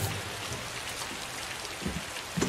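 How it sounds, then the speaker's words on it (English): Heavy rain pours down outside, a steady, dense hiss of falling drops with a few louder splashes near the end, moderately faint. "Pouring rain out."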